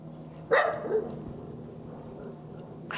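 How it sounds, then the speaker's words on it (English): A King Charles Cavalier spaniel gives a single short bark, followed by a softer yip a moment later, close and fairly loud over a low indoor hum. "He's the older of two King Charles Cavaliers."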